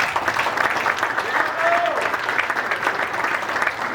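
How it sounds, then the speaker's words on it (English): Guests at a high school baseball hall of fame induction applaud the honored group, a steady, moderately loud wash of clapping from a room full of people, continuing evenly throughout. "So give yourselves a round of applause."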